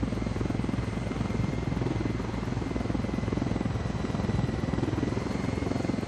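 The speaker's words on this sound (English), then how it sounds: "There's another aircraft messing with it." A helicopter flying in the video game Ghost Recon Wildlands, a steady thudding rotor chop with engine drone, loud and continuous.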